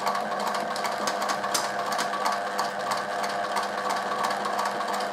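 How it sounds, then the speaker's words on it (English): A domestic sewing machine runs steadily while sewing a short back stitch on a fabric coaster, a continuous close, fairly loud motor whir with rapid needle chatter throughout. "So a little back stitch"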